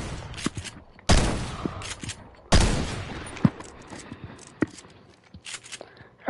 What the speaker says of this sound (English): Here's a shotgun.